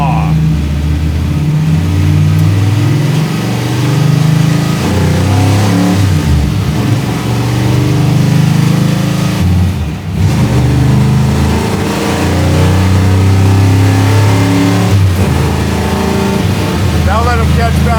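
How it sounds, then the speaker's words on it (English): A NASCAR-inspired Dodge Charger powered by a 472 Hemi V8 rumbles and revs loudly from inside the cabin while driving, deep throttle swells rising and falling continuously, with occupants talking over it. "Boy, this car sounds and feels right away raw."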